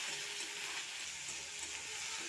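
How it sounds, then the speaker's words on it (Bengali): Onion, tomato and crushed garlic frying in a pan for a lentil dish, a faint, steady hiss of sizzling oil throughout with no voices. "এখন পেঁয়াজ আর টমেটো সব কিছু ভালো করে ভাজা হয়ে গেছে"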